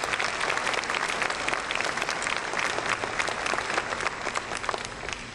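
Dense, sustained applause from a large audience at a university fall convocation, steady and full throughout with no break.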